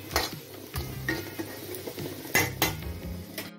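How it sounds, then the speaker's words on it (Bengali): Ramen noodles stirred in oil in a metal pan: a utensil scrapes and clinks against the pan in several separate strokes, close and fairly quiet, with no talking. "আমি র‍্যামেন গুলো একটু তেলের মধ্যে সামান্যভাবে নাড়িয়ে নেব"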